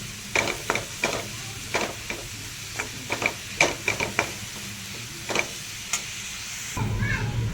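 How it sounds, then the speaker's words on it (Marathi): Jaggery and coconut modak filling stirred in a pan, a spoon scraping and clacking in irregular bursts, close and fairly loud against a faint sizzle. "त्याला पण छान असं आपण मिक्स करून घेऊयात"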